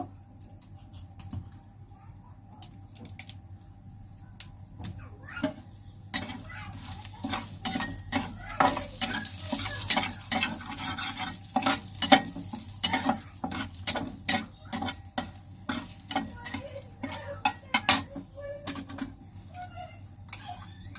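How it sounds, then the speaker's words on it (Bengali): Two bay leaves and dried red chillies crackle in hot oil in a kadai, a soft sizzle that swells into busy popping and patter with occasional stirring scrapes, quiet and close with no talking. "তেজপাতা দিয়ে দেব দুটো"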